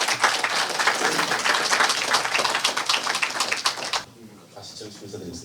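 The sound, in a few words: audience applause welcoming speaker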